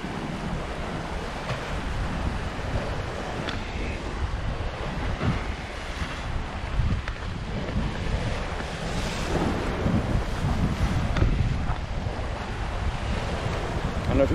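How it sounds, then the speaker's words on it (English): Ocean waves surge and wash against a rock outcropping on the Puerto Rico coast at the Guanica Dry Forest, a continuous loud roar mixed with heavy wind buffeting the microphone. "I don't know if you can hear this, but the waves coming up against this outcropping."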